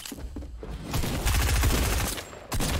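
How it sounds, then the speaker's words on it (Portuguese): Gunfire in a video game, heard as a dense, sustained rattle of shots with heavy low rumble that builds and continues for several seconds, close and loud, with a brief dip before it resumes. "o cara tá me atirando"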